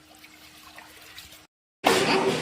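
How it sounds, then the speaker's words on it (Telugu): Water poured into a wide pan for cooking, a steady trickling and splashing after a short pause, close and fairly loud. "సో టోటల్గా 6 లీటర్ వాటర్ పోసుకోవాలి."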